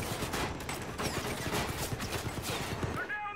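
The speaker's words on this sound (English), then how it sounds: "Hey, stop shooting at me." Gunfire in the video game Far Cry 5, a dense run of rapid rattling shots and clattering bursts throughout, loud and continuous, with a short whistling tone near the end.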